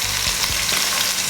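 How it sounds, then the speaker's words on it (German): A whole leg of lamb sears in a very hot pan, giving a loud, continuous close sizzle and spatter with a few brief stirring or scraping touches and no talking. "Also jetzt nehmen wir einfach den ganzen Gigot und dann wirklich scharf anbraten."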